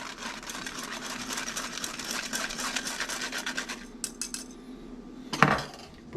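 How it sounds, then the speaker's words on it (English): Whisk scraping and clinking through a mixed berry smoothie mixture in a bowl, a steady rapid rubbing chatter that pauses near the end before a sharper clatter, close and moderately loud, with no talking. "You whisk it so it'll go down better through the screen"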